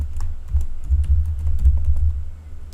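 Rapid, steady keystrokes on a computer keyboard while a .gitignore file is typed into a Node and Express project, close and clear with no talking.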